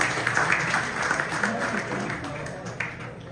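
Applause from the audience at a Canadian Urdu poetry gathering (mushaira), a steady patter of clapping lasting a few seconds with faint voices underneath.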